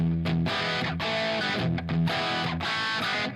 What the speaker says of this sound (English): I add just a little bit of 1176 on top of it.